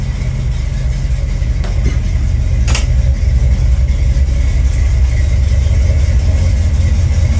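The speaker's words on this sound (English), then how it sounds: "Ignore the exhaust leak. I've been had the exhaust leak." A car engine idles steadily and loudly up close with an exhaust leak, giving a constant low rumble and puffing throb throughout, with a couple of brief sharp clicks partway through.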